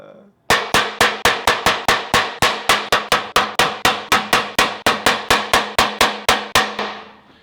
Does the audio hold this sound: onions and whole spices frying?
no